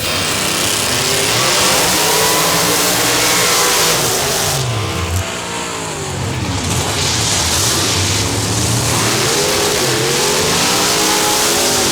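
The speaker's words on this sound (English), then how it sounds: "Sound in Pro Modified drag racing, that of a supercharger on alcohol" A supercharged, alcohol-fueled Pro Modified drag car, a 1990 Chevrolet Beretta, roars loud and close throughout, its engine revving hard and rising and falling in pitch without a break.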